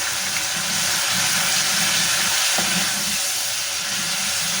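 Hot oil sizzling steadily in a pan as water is added while frying, a loud, continuous hissing with a low bubbling underneath.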